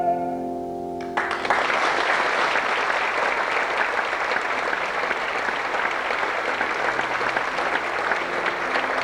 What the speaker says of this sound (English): They are still applauding, madame.